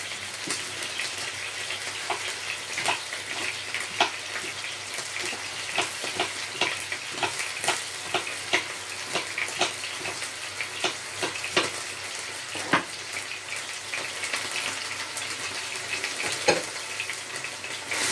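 Chopped onion sizzling and crackling in hot oil for a lamb and beansprout stir fry, a steady loud frying hiss peppered with sharp pops and spits, with no talking.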